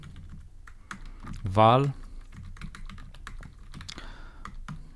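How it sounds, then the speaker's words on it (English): Quick, close clicks of a computer keyboard as code is typed, steady keystrokes with a brief spoken word partway through. "so I'll type here another one"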